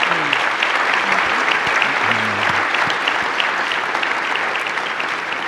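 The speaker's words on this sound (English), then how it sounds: "I'd like you all to give a wonderful round of applause to our four guests" Audience applause for four guest panelists at a session of the 2018 NACDA Convention, a dense, steady clapping from a sizable crowd that holds at an even level throughout.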